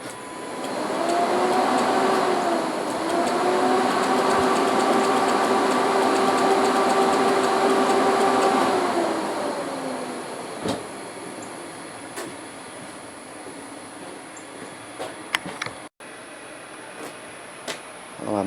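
Jeep XJ engine being cranked over by a sticking starter, a steady mechanical whirring drone that runs for about nine seconds and then drops away, leaving faint clanks and taps.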